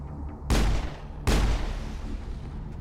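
Two loud, sharp pistol shots from the Mass Effect video game, spaced about three-quarters of a second apart, each leaving a short booming tail, with no talking.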